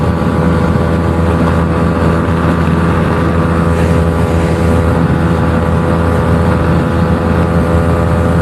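A Yamaha R15 motorcycle engine screams at high revs during a drag race, a loud, unbroken, buzzing drone held close for the whole stretch.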